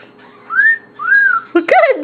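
An orange-winged Amazon parrot whistles two rising-and-falling notes, then gives a harsh, nasal squawk-like whistle, close and loud.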